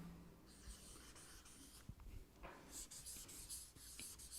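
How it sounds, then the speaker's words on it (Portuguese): A teacher writing on a board during a Portuguese-language lesson, soft scratchy strokes in short bursts, quiet and close, with no talk. "Por isso eu vou escrever aqui."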